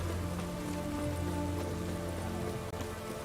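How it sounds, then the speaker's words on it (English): Steady rain in The Witcher 3: Hearts of Stone patters continuously under a low musical drone, with one brief click near the end. "It's raining, of course it's going to be damp."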